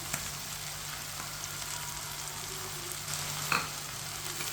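Finely chopped tomatoes and cabbage fry in a pan for chicken macaroni, producing a steady close sizzle with a few brief stirring scrapes and no talking.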